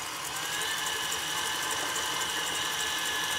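An electric hand mixer runs on high, beating white sugar into eggs for brownie batter, with a steady, dense whirring buzz that holds at one level throughout, close and continuous with no talking.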